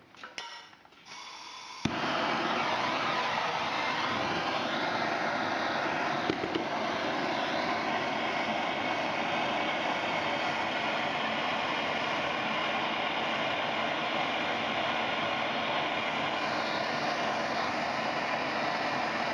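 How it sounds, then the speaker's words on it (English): Steady roaring hiss of a torch flame heating a brass shower valve joined to copper pipe, loud and continuous after a brief ignition, with no speech. "I'm heating up the brass on the valve versus pipe"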